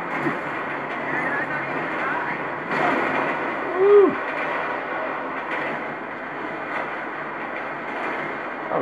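A train rolls along in the video game GTA V, giving a steady, moderate rumbling drone with a couple of brief swells, while low voices sit in the background.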